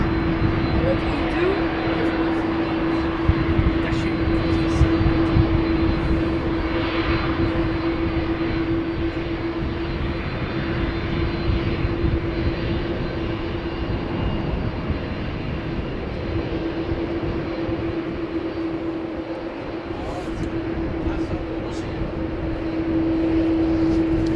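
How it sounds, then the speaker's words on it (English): Constant engine hum and whine from an Embraer 175 airliner taxiing at an airport, a steady tone over broad rumble, with people talking quietly in the background. "the Embraer 175 we were referring to is taking Cheater's Lane to go to Genoa before the A330 takes off"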